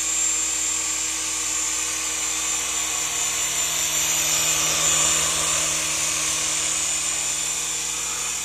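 A Syma S107G remote control toy helicopter hovers close by with a steady, high-pitched electric motor and rotor whine that holds constant throughout, with no voices.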